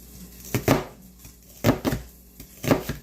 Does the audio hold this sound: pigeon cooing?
no